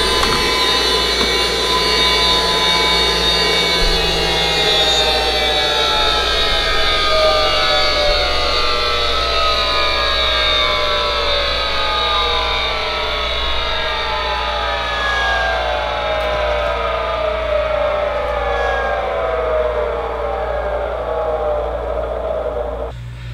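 The flywheel of a Dewalt 20V cordless roofing nailer gives a loud, continuous siren-like whine whose pitch keeps sliding downward as it winds down over more than twenty seconds.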